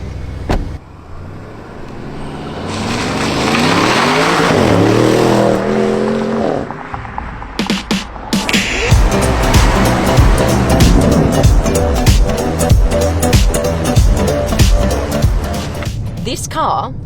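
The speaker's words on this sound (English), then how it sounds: "This car has a twin turbo V8 with 600 horsepower" A 2019 Audi RS7 Sportback with a twin-turbo V8 accelerating hard on a road, engine note rising through gears with shifts and a sustained loud roar, someone talking over parts of the run.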